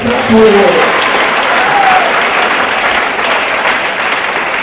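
A church congregation applauds and acclaims the Lord during a worship service: dense, sustained clapping fills the room at a steady loud level, with voices mixed into the crowd noise throughout.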